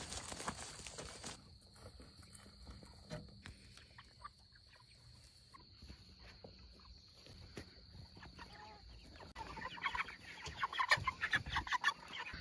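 Meat chickens in a mobile setup cluck and murmur steadily at middle distance, the flock growing busier and louder toward the end, with no talk.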